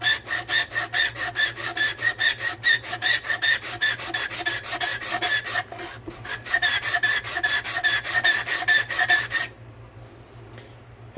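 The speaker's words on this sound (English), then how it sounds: "you take a piece of sandpaper, take your humbucking ring, again this is the same piece of 220" A guitar humbucker pickup ring is slid back and forth over a sheet of 220-grit sandpaper lying on an ES-335-style guitar body, a close, rhythmic rasping of steady rapid strokes that runs for about nine seconds before stopping.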